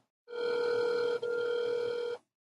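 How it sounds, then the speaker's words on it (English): A single long telephone ring tone hums steadily for about two seconds with a brief dip in the middle, heard close and clear. "It's a good sign. It's ringing."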